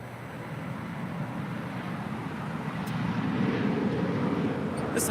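A three-year-old Airbus A350-900 airliner departing LAX for Rome, a steady jet engine roar heard from a distance that slowly grows louder and fuller over several seconds.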